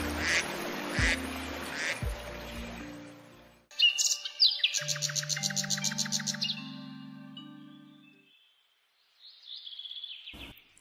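Cartoon ducks on a village farm quack in short bursts, with bright chirpy tones and cartoon music effects between them, ending in a faint high whistle-like call.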